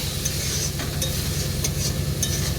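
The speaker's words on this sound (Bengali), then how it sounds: "মশলাটা ভালো করে কষিয়ে নেব" Spices being sautéed with kochu (banana) flowers in a pan, a steady close sizzle with the scrape of a spatula stirring, no talking.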